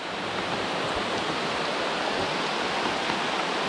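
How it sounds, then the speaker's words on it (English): Hard rain pours during a thunderstorm on a fishing outing, a dense, loud, unbroken hiss of heavy downpour that fills the whole stretch with no voices. "God, it's raining."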